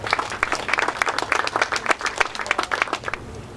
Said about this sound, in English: round of applause for Jeff